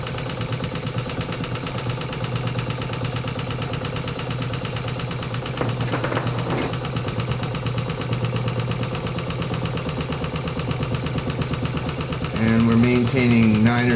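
A Stuart No. 9 horizontal mill steam engine with a big bore runs steadily on steam at about 9 to 10 PSI, giving a continuous rhythmic mechanical chuffing and whir, with brief clanks midway and a louder tonal whine near the end.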